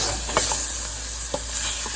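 Green chillies and tomato tipped into a hot pan of sizzling dal tempering, a steady close frying hiss with a few soft stirring scrapes and small splutters, no voices.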